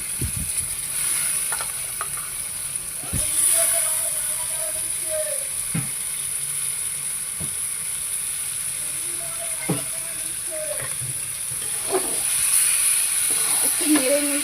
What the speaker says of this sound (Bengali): মাংসটা এখন কষানো হচ্ছে